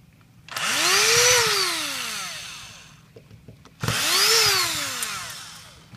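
A power screwdriver backs out screws from a micro switch on a pump head, whirring up and then winding down in two separate close, loud bursts with a short pause between.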